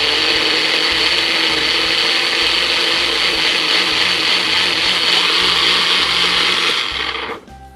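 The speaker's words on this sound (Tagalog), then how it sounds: "And now is ready na siya para i-blender." A blender purees chili, a whole Roma tomato and 1/8 cup of water: a loud, continuous whirring grind with a rhythmic chop that runs steadily for several seconds, then cuts off near the end.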